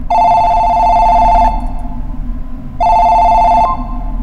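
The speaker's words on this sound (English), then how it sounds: "What kind of flip phone is that?" A flip phone rings in a Chilla's Arts horror game set in a cursed bathhouse: two loud, steady electronic ring bursts, the first about a second and a half long, then a pause before a shorter second burst.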